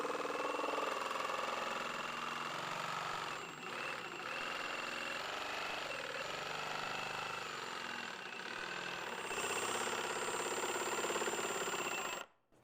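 A jigsaw with a long blade cuts slowly through a lid kit panel, a steady close buzzing motor drone with vibration running continuously before stopping abruptly at the end.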